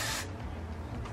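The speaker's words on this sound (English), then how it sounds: "I'm just going to go ahead and take my Got To Be spray, pull her back" A brief hiss of Got To Be hair spray, a short close burst lasting a fraction of a second before fading into quiet room tone.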